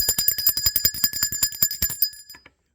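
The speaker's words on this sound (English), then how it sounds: "Let's ring the bell for that." A small bell struck repeatedly in quick succession, about a dozen bright metallic rings with sustained high tones, loud and close, then a brief decaying ring before silence.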